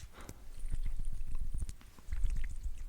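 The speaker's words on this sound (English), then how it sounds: "It also makes terrible liquid sounds." Liquid sloshes inside a thick glass cologne bottle being shaken, giving muffled, irregular knocking thuds close to the listener with a few soft clinks.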